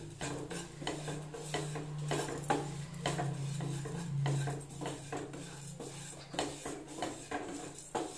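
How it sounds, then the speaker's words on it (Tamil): A spoon stirs flattened rice roasting in ghee in a pan, making repeated scraping and clinking strokes at an uneven rhythm over a low steady hum. The sounds are close and moderately quiet, with no talking. "அந்த நெய்யில் வந்து நல்லா அந்த அவல் வந்து மிக்ஸ் ஆகி நல்லா வறுக்கணும்."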